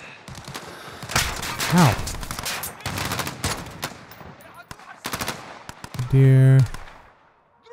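Gunfire in Call of Duty Modern Warfare during an embassy defense, with rapid machine-gun bursts and sharp repeated shots, loud and close, then a brief tonal buzz near the end; a player voices pained reactions between bursts.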